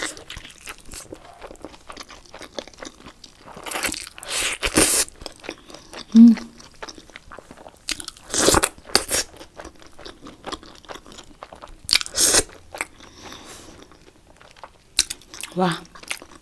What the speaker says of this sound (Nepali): मोमो फर्स्ट बाइट खाएँ